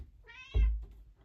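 A pet cat named Honey gives one drawn-out, close meow, then a soft low thump follows.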